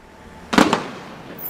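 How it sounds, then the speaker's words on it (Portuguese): Two sniper gunshots fired from a rooftop during an Army Day military ceremony demonstration, one from a heavy 12.7 mm weapon: a pair of sharp, loud cracks in quick succession with a short fading tail. "Ouviram-se 2 disparos sniper, posicionados no topo do edifício à vossa frente"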